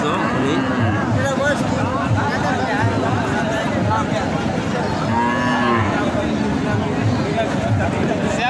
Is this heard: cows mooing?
yes